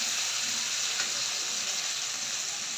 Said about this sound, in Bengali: পেঁয়াজটি হালকা আবার ভাজা হয়ে গেছে, রসুন বাটা দিয়ে দিলাম